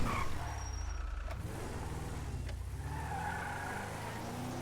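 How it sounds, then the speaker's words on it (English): A car engine in the video game GTA drones low and rough with a faint rising whine, fairly quiet and steady, with a couple of brief clunks over the constant rumble. "it's gonna make a really terrible sound, like there's hammers in the engine"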